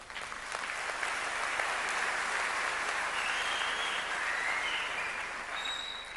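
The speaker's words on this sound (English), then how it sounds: "Please give them a round of applause." Audience at a university graduation ceremony applauds the graduates' parents and loved ones, steady dense clapping filling the hall for about six seconds before tapering off slightly.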